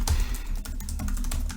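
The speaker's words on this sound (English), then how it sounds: "Leaving in my keyboard sounds." Rapid clicking of keys on a computer keyboard, steady typing with quick irregular taps, close up and alone.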